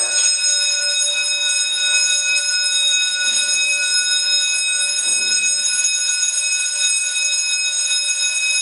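A freight elevator door alarm at the King of Prussia Mall sounds a loud, continuous, shrill electronic buzzer tone that does not break for the whole stretch.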